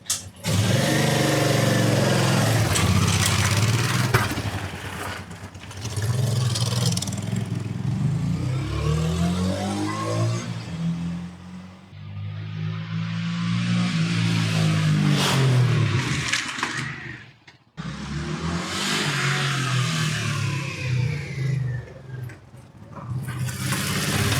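Forty-year-old motorcycle engine revving and pulling away for a short ride, a steady loud rumble that rises and falls with throttle changes, briefly dropping near the end before picking up again, with no talk.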